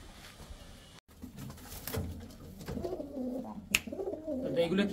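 Andhra pigeons in a loft coo in low, throaty, repeated burbles close by, with faint voices and light rustling underneath.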